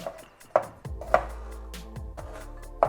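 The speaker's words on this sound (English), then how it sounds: "So I'm just going to chop this. This is for the Tarka." A knife chops a very spicy chili on a board for tarka daal, giving five or six sharp, distinct chops at an uneven pace in a quiet kitchen.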